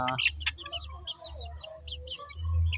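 Backyard chickens, a hen among them, clucking and chirping softly at close range in short irregular calls, with a low rumble of handling or movement underneath.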